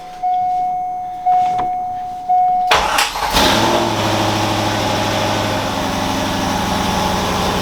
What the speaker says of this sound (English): We got the new starter in and the exhaust back together, so we're gonna see if she starts up now.